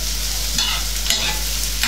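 Fish sizzles steadily in a frying pan, a loud continuous hiss with a few brief swells as pieces shift or are stirred, close and without talk.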